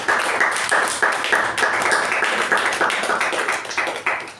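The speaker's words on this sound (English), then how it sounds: "a big round of applause for DTM MU Bhat for his evaluation" An audience at a Toastmasters club meeting gives a sustained round of applause, dense steady clapping from many hands filling the room with no voices over it.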